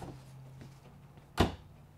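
A trash can drawer in the kitchen island of a Grand Design Solitude 390RK fifth-wheel RV slides open with one short, sharp thud near the end, following a faint low hum and a few soft knocks.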